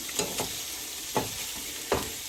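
Shrimp sizzle in lemon butter in a pan, a continuous close frying hiss broken by three or four scraping stirs, with no voices.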